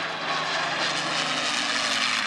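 A North American P-51 Mustang passing at an air show, its piston engine giving a steady, loud, broad roar that swells slightly as the fighter goes by, with no talk over it.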